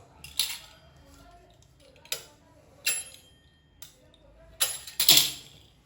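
A knife cuts rolled maida dough into papdi strips: six or so sharp, separate taps and clicks on the board at uneven gaps, the last a quick double knock, over a quiet room.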